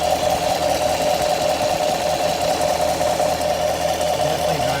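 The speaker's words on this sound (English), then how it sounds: "sounds like driver's side bank. Lifter, I'm pretty sure." Idling 2016 Chevrolet Camaro SS with the LT1 V8, heard close and steady with a fast, even ticking from a lifter on the driver's side bank over the engine's drone.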